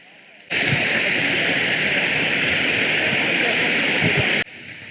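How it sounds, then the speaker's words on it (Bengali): A waterfall in Green Valley Park, Lalpur, Natore roars as a steady, loud rush of falling water that starts abruptly and cuts off just as suddenly. "আর এই সাইডে রয়েছে ঝর্ণা"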